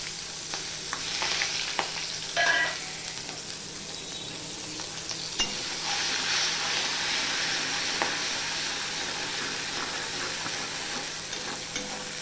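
Green chillies and ginger fry in hot oil with a continuous bright sizzle and spitting, plus occasional stirring scrapes and light clinks near the pan.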